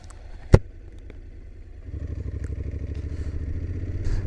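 A Honda NC750X DCT motorcycle in sport mode gives a single sharp clunk, then its engine note rises into a steady, close, throaty drone that builds slightly toward the end.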